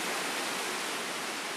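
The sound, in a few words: waterfall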